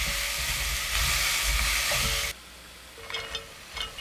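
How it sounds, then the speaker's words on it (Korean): Loud, steady sizzling of julienned radish stir-frying in sesame oil in a pot, then it drops away to quieter clinks and faint scraping sounds. "냄비에 참기름 2스푼 넣고 무 넣어 3분간 볶아요"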